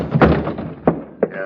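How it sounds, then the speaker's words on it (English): A door being crashed in as a radio drama sound effect: several heavy wooden thunks and thuds in uneven succession, loud and close, with a voice briefly under the impacts. "Crash the door, Logan."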